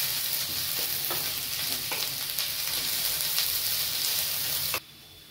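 Grated ginger frying in hot oil with onions for a chicken curry, a steady close sizzle with a few soft scrapes of stirring, cutting off abruptly near the end.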